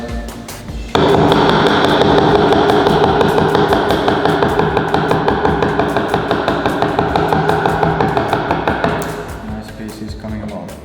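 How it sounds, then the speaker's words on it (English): Wooden mallet tapping a chisel into wood, a loud, steady series of close, evenly spaced knocks lasting several seconds before stopping. "always make the first taps around the lines, and then you can start working your way along the wood"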